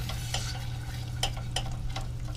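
Apple pie filling ingredients are stirred together with a steady soft rustle and a low hum underneath, with a few sharp scraping strokes at irregular moments, close and moderately quiet.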